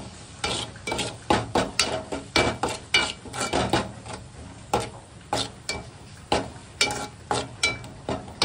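Ground masala paste frying in oil in a pan for a fish curry, stirred in quick repeated scraping strokes with soft sizzling beneath, close and steady with no talking.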